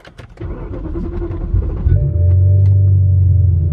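A car engine cold start: it cranks with a few clicks and whirs, catches after about two seconds, and settles into a loud, steady idle rumble close by.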